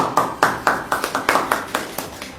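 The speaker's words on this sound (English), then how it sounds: "a great round of applause is for them" Sparse clapping at a school science event: about a dozen distinct, separate claps in an uneven rhythm, close by and fairly loud, more like a few hands than a full crowd.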